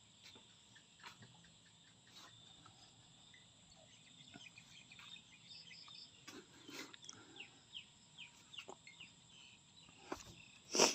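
Chickens cluck faintly at a distance beside green rice paddies, a few scattered calls over a steady chorus of chirping crickets, with a louder burst at the very end.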